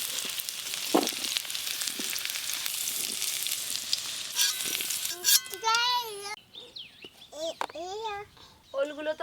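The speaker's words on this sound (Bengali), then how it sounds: "এদিকে দেখতে দেখতে ওলগুলো বেশ ভালো করে ভাজা হয়ে গেল" Elephant foot yam pieces frying in oil, a continuous close sizzle that fades in the latter part as voices, including a child, talk over it, with a faint bird call.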